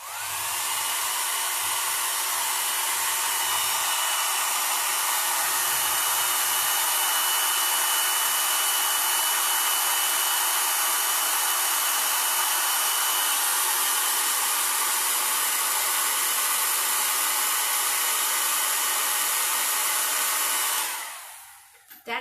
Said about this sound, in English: I'm going to take my hair dryer and I'm going to dry that really quick